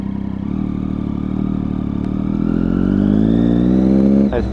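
A Triumph Daytona 675 sports motorcycle engine hums steadily, then revs up with a rising whine before easing off, loud and close throughout with no talk.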